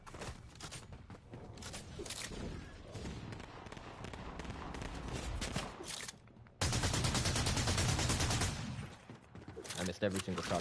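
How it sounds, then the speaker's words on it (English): Video game gunfire from two directions comes as dense bursts of sharp shots and rapid automatic fire, loud and close, with a louder volley in the second half and players talking over it. "You got shot at from 2 different directions."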